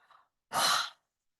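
A yoga breath: one soft, faint inhale, then a single strong, breathy exhale that is blown out for about half a second, alone in a quiet room.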